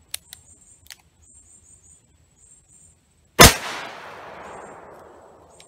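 .357 Magnum revolver fired at a red milk jug, a single sharp, loud outdoor shot after a few faint clicks, followed by a long rolling echo that fades slowly.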